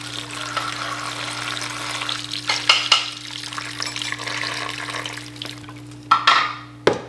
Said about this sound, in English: I'm gonna put some water in the bag with the carrots and those potatoes.